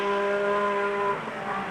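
A Renault V6 Turbo race car at the 1978 Le Mans 24 Hours screams past with a loud, high-pitched turbo engine whine that holds steady and then drops in pitch as it moves away.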